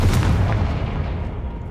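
A blasting spell goes off in the Hogwarts Legacy video game, a loud, dense explosive boom at the start that rumbles on and slowly fades over the following second or so.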